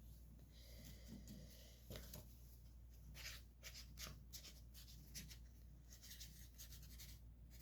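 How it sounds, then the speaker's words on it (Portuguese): A pen scratches across paper at very low volume and close range as a name and address are written out, in short irregular strokes against a quiet background hum. "eu escrevi aqui o nome e o endereço do Olivaras"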